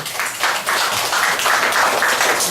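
Applause for donors at a restaurant gathering of a regional members' association, a steady wash of many hands clapping close by for a couple of seconds, with slight surges in intensity.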